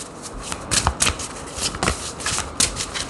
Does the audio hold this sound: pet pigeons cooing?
no